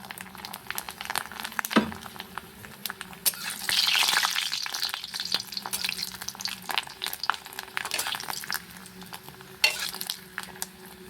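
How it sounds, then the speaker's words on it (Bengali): Papads frying in hot oil in a home kitchen, a steady crackling sizzle with a louder burst of bubbling midway, occasional clinks of utensils, close and continuous with no talk. "কয়েকটাই ভাজবো বেশি ভাজবো না এই পাঁপড়গুলো আমার ভীষণ ভালো লাগে খেতে"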